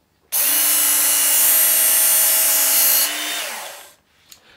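Work Sharp electric knife and tool sharpener whirring loudly and steadily for about three seconds as a blade is drawn through, its pitch dropping slightly before it winds down, followed by a faint tap.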